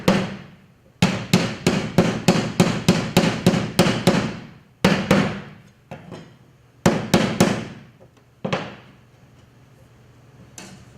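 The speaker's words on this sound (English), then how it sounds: "I'm actually take a flat metalworking hammer." A flat metalworking hammer strikes sheet metal for a seat pan again and again in quick, steady bursts of ringing blows, pausing between rounds, loud and close.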